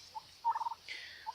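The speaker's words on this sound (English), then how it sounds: "The turkeys make a little bit of noise, but they're not too bad." Turkey hens in a farmyard give a brief, faint gobbling burst of quick warbling notes, with a softer call after it over a quiet background.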